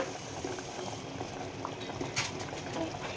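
Water with rice and mint bubbles at a gentle rolling boil in a pot for prawn biryani, a soft continuous gurgle with scattered small pops, fairly quiet and close.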